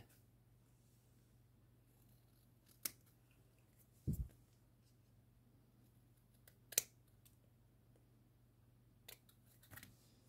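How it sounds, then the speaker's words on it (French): Scissors snip paper for a handmade Valentine tag, a few faint, sparse crisp cuts spaced apart in a quiet room, one lower thump among them. "je vais déjà découper"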